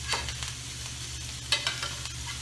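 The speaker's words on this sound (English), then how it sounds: "we're going to take some of that wonderful butter and kind of spoon it over the top of our steak" Garlic and thyme butter spooned over a searing steak in a hot pan, a constant close sizzle with sharper spattering bursts each time the butter is poured over, no talking.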